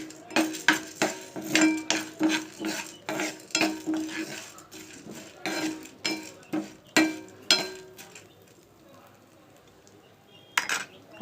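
Cumin seeds dry roasting in a pan while a spatula stirs them in quick, rhythmic scraping and clinking strokes, heard close up, before a quieter stretch and one last stir.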